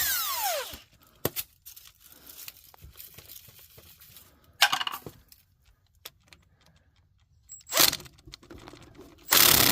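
Ratchet wrench with a 14 mm socket backing bolts out during a Dana 70 Power-Lok differential rebuild, giving scattered clicking bursts and sharp metallic clacks between quiet pauses, close by with no talk.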